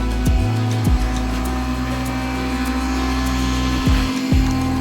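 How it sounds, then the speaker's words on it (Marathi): A home kitchen mixer grinder runs with a steady high whine and a droning motor hum, its pitch dipping and recovering twice as the load shifts, loud and close. "आजी मिक्सर वगैरे लावते"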